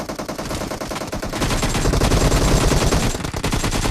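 Rapid automatic gunfire in the video game PUBG, loud and continuous, with dense crackling bursts that grow heavier midway through.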